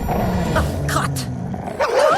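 Cartoon dog growling and snarling as it attacks, short rough bursts close up over a little under two seconds, with a character crying out in pain.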